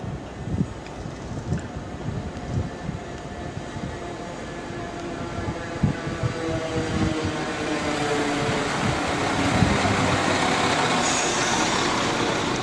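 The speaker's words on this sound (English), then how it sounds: "I'll just wait for the next train to come in." A London Overground train rumbles into the station platform at Winchmore Hill, a low mechanical roar building gradually louder and fuller over several seconds, with rattling and wind-like noise throughout.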